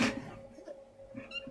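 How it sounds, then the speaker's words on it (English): A kitten gives a short, faint meow indoors, close by, in a brief and otherwise quiet moment. "This isn't Milo, this is one of Luna's kittens."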